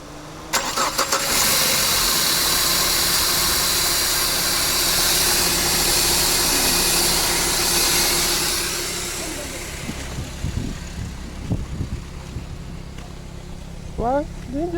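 A Peugeot 406 with an AL4 automatic transmission fault cranks and fires, then settles into a steady idle, loud and close. The engine note quiets a little as it runs on, with brief voices near the end.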